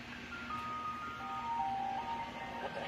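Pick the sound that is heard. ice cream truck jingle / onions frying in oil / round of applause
ice cream truck jingle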